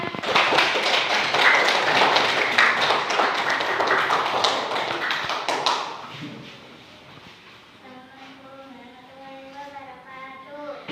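A classroom of students claps together in a dense, lively burst for about six seconds, then the clapping stops and a voice speaks over quieter room sound.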